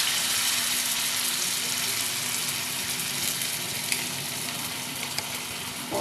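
Egg chops, coated pieces of egg in a rice-flour paste, frying in hot oil, giving a steady close sizzle and crackle that holds for the whole stretch with a few small pops.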